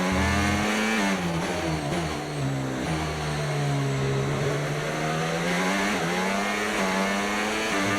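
Formula 1 car engine in the F1 25 racing game wails loud and continuous, pitch climbing and dipping through gear changes during an overtake, no talking.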